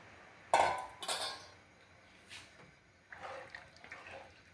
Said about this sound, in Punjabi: ਆਪਾਂ ਇਹਦੇ ਵਿੱਚ ਪਾਣੀ ਪਾ ਰਹੇ ਹਾਂ